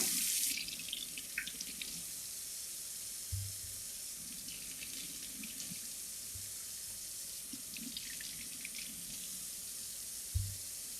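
Potatoes rinsed under a running kitchen tap while cooking, a steady close water stream splashing into the sink with a few brief knocks and clunks of handling along the way, no voices.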